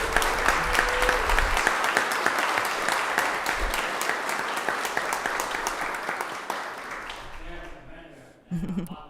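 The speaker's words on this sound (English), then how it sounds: "Can we give him a round of applause one more time?" An audience at a town council meeting applauds an honoree, sustained dense clapping that tapers off near the end before a voice briefly begins speaking.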